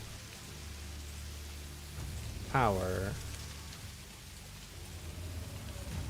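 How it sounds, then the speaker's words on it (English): Steady rain hisses continuously in a video game, filling the background at a moderate level, while a voice briefly speaks a single word midway. "Is it raining? Raining. In the game."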